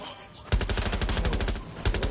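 Rapid automatic gunfire from a weapon in Watch Dogs Legion, a loud, close burst of shots lasting about a second and a half, with a second short volley starting just after.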